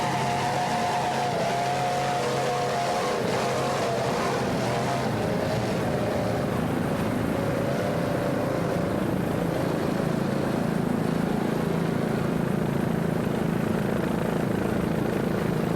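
A 36-foot Cigarette offshore racing powerboat with twin 500-horsepower Mercury engines in a Daytona offshore Grand Prix race, a steady loud engine roar with droning tones, continuous throughout with wind and water noise.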